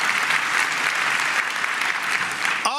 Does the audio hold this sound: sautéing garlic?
no